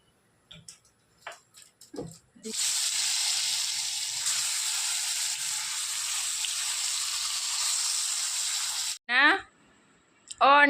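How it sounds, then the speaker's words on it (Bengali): Fish frying in a pan, a steady loud sizzle and hiss lasting several seconds, with brief voices just before and after. "তাহলে চলো মাছটা ভেজে নিই"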